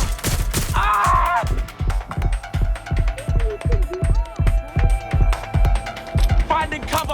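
Gunfire in the Watch Dogs: Legion video game, a rapid, loud fusillade of close repeated shots in uneven bursts over most of the stretch, with shouted character voices cutting in between.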